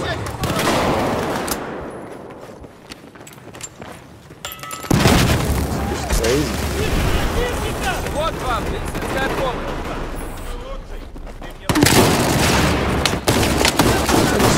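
PP2000 submachine gun fire in Battlefield 4 comes as dense, rapid bursts with booming impacts and a constant layer of game noise throughout.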